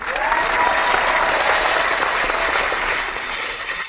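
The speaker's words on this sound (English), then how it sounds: "I'm gonna give us a hand clap, because we all had a great podcast" Dense, steady applause closes out a gaming podcast episode, a continuous wash of many hands clapping at once that holds a fairly even level for nearly four seconds with no talk over it.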